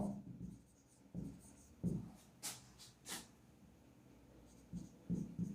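A pen scratches out a maths answer in short, separate strokes with pauses between them, close up and quiet.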